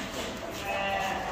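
A pregnant goat on a goat farm bleats in one sustained, nasal call, close and fairly loud, blending with a voice talking nearby.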